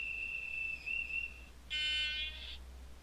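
From a small Arduino MP3 player module, a thin, steady whistle-like tone holds for a second and a half, then a brighter, harmonically rich horn blast follows, both faint against a low background hum.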